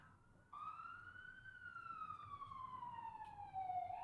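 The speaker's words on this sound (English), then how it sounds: "Why don't you turn your sirens off?" An emergency vehicle siren wails outside in a long, slowly falling tone that grows louder as it passes, with a faint background rumble.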